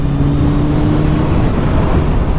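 A 1999 Honda CBR 900 Fireblade sport motorcycle engine pulls hard with a raspy, steady drone, loud and close throughout with no break, blended with rushing wind noise.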